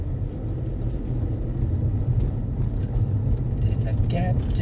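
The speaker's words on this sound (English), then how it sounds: "Another car is coming" A car passes at a roundabout while the listener waits in a driving car, heard as a steady low engine and road rumble, close and continuous, with a person talking over it.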